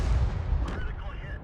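A heavy tier 9 or 10 tank cannon in a tank battle video game fires a single deep, booming shot up close, with a low rumble and sharp high crack that fades away.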